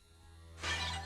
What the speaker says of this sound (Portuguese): O silêncio que se seguiu foi quebrado apenas pelo som dos pratos que se quebravam ao caírem de suas mãos.